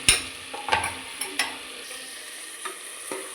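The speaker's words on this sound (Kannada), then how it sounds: "ಒಂದು ನಿಮಿಷ ಇದು ತರಕಾರಿ ಸ್ವಲ್ಪ ಫ್ರೈ ಆಗಲಿ" Vegetables frying and being stirred in a pan for a rice bath dish, with a soft steady sizzle under several sharp utensil scrapes and clinks spaced irregularly, fairly quiet and close, no voices.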